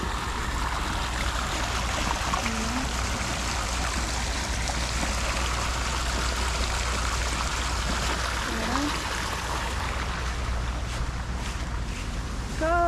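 Steady, broadband rushing of a park waterfall in Esenyurt, Istanbul, fills the scene continuously, with faint wind buffeting and a few brief chirps near the end.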